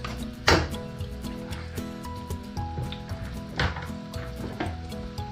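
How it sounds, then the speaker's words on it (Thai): Chopped garlic stir-fries in hot oil in a pan for stir-fried instant noodles, with a soft steady sizzle, occasional utensil scrapes and knocks, and faint tonal music underneath. "ร้อนแล้วก็เอากระเทียมลงไปเลยค่ะ กระเทียมที่เราสับไว้นะคะ เอาลงไปผัดให้หอมค่ะ"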